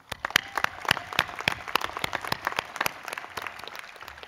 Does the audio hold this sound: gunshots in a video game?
no